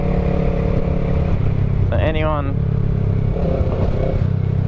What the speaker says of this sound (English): Absolutely love this exhaust